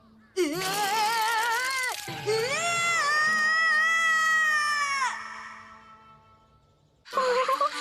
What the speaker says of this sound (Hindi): इसके राइट कान पर रिबन लगा है, मतलब ये वही बिल्ली है।